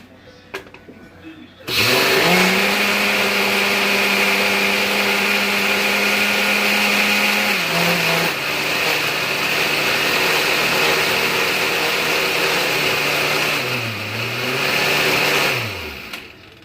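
A countertop blender whirls a salt solution for making ormus, starting abruptly and holding a loud, steady whir for about fourteen seconds, with brief pitch dips midway and near the end before winding down.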